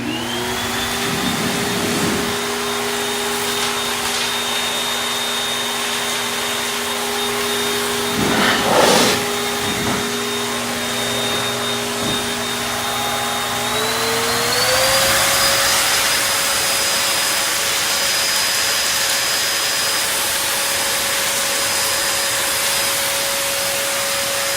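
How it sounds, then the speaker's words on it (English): A Shernbao high velocity pet dryer blower runs loud and steady with a strong whine, its pitch stepping up partway through as the speed rises, with a few brief rustling bursts in between. "this does have some kick even on low. So it's going to be kind of loud."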